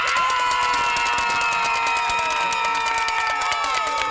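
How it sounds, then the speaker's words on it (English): Loud crowd at a youth football game, the Blitz Border Bowl, cheering continuously with shouts and whoops for the full stretch, dense and steady with no pause. "we need a big cheer for Purnell now"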